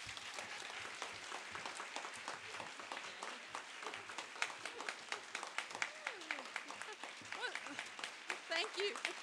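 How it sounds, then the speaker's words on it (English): Steady audience applause fills the room at a dedication for Anita Uphaus, a dense wash of many hands clapping at moderate volume with scattered voices and a few cheers mixed underneath. "give a round of applause"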